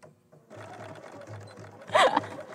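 Sewing machine running a decorative stitch, a steady close whir that starts after a brief quiet moment, with a louder mechanical burst near the end.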